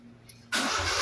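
A Honda Civic with a former hard-starting fault, in neutral, cranks once and fires almost instantly, jumping from near silence to a steady close-up engine run.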